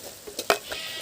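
Goat intestine gravy with chilli and coriander powder stirred in a pan, a few quick close scrapes and clacks of a spoon over a light sizzle, no voices.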